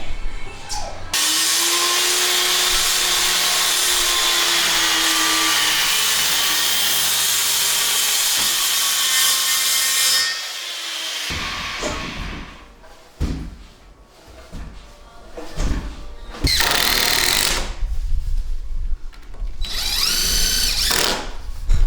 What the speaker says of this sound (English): I'm gonna cut this joist right here to fit this beam in.